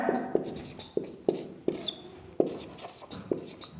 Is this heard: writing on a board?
yes